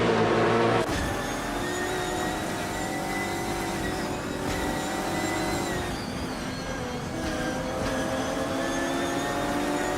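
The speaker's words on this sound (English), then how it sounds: "The Dreamkeeper has just overtaken for fourth place, making progress up the field" Race cars in a racing video game roar along with a steady, sustained engine whine whose pitch shifts slightly as they gear up, loud and continuous for the whole stretch, with a brief louder burst at the start and no talking.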